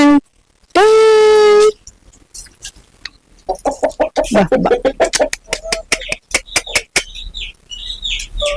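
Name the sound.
rooster crowing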